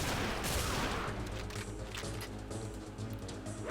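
Rapid gunfire from a non-player character in the Survivalist video game, a dense, sustained burst of loud shots rattling on for several seconds with no talk over it.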